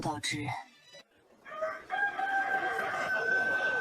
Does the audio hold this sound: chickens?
yes